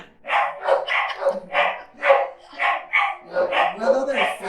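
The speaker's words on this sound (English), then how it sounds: "What do we do about the dogs?" Several dogs bark and yip repeatedly in an outdoor setting in Cuenca, loud and close, mixed with overlapping voices.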